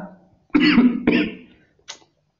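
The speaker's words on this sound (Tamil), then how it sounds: "இருமல் மேலே இருமல் வந்துட்டு இருக்கு" Two harsh, close coughs in quick succession from a person with a cold, followed by a short faint throat sound, in an otherwise quiet room.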